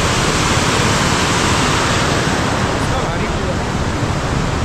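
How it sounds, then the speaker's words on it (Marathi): Water pouring down from a dam in a waterfall: a loud, steady, broadband roar that fills the whole clip without a break, with a windy, rushing texture and no other clear sounds. "खाली जे आपण बघितलं ना वॉटरफॉल, तो मेन ह्या डॅममधून येतोय."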